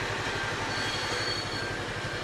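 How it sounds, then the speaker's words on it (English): A train in outback Queensland rolls past close by, its wheels and cars producing a steady rumbling roll with a regular low rhythmic beat and faint high squeals, continuous and unbroken with no talking. "Stupid train."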